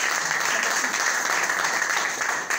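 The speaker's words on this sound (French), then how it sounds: "Acclamez encore pour les gens." Audience applause at a presentation, a dense, steady wash of clapping hands filling the room for a few seconds without a break.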